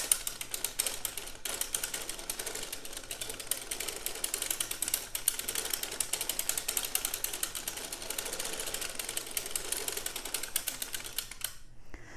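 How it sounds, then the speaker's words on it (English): A circular sock knitting machine being cranked round, a dense rapid mechanical clatter of needles and gears, steady and close, continuing evenly before stopping just at the end. "now I crank around until my row counter says 24"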